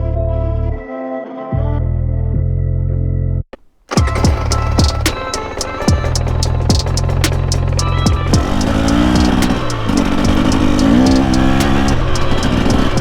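A 2024 KTM EXC 250 two-stroke dirt bike engine idles with a buzzing tone, cuts out briefly, then restarts and revs in loud, rising and falling bursts close to the recorder.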